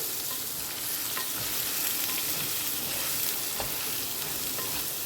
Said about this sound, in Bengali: ভালো করে এটাকে আমি মিশিয়ে নেবো ভেজে নেবো আর কি